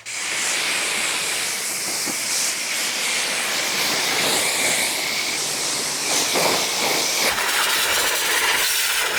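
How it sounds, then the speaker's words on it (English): Steady water spray hissing as a car is rinsed down after scrubbing during a detailing job, a broad continuous rush close by that cuts off sharply near the end. "So now that we went ahead and scrubbed it all down, we're just rinsing it."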